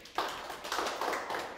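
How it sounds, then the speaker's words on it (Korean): Audience clapping in congratulation at a lecture on auction real-estate investing, a short burst of steady applause from a seated crowd that rises quickly and holds for under two seconds. "축하의 박수 한번 드리기 바랍니다"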